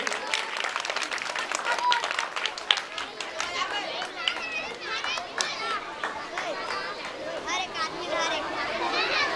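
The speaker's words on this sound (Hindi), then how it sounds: "आप सभी से निवेदन की जोरदार तालियों से इनका ससम्मान विदाई दीजिएगा।" An audience at an outdoor Phag festival stage in Abhanpur applauds, scattered claps and children's shouts mixed with crowd chatter and a public-address voice speaking throughout.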